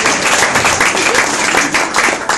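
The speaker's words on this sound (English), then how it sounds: "So let's give Kurt a bit of a round of applause." A live audience at a psychic medium's stage show breaks into a round of applause, dense steady clapping from many hands filling the whole moment at full volume.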